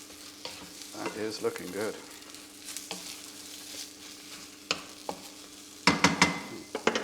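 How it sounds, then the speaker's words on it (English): Frozen fries for a spice bag are tossed and fried in a pan, giving a continuous sizzle with scraping stirs and clattering knocks that grow louder near the end; a voice briefly speaks over it. "Make sure everything's coated, everything's fried up."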